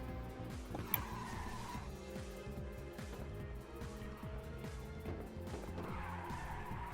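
Race car power sliding in the 2006 Ridge Racer 2 video game: a high revving engine with repeated rising and falling gear pitch sweeps, and tire squeal stretching through the slides, steady and fairly loud.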